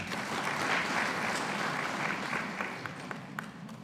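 Audience applause at a forum on climate change and food security, welcoming a senator: a sustained wash of many hands clapping that thins toward the end, with a few sharper isolated claps.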